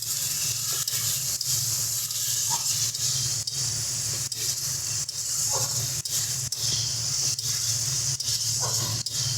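Water poured little by little into a hot pan of okra and shrimp curry, giving a steady close sizzling hiss with brief dips as each small pour hits the pan.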